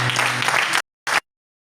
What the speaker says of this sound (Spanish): Un aplauso al Señor en esta tarde.